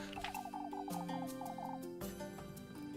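Hens in the video game Little Goody Two Shoes cluck in quick, repeated bursts over a steady musical background, clear and close for about three seconds.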